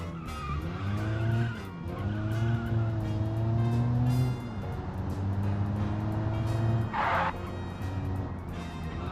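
A tiny Carota city car in a driving game runs fast downhill on narrow roads, engine whining and rising in pitch with brief dips at shifts and a short burst of tyre noise, close and continuous.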